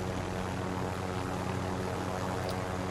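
A helicopter in Call of Duty Warzone drones with a steady, constant engine and rotor hum, alone with no talk over it.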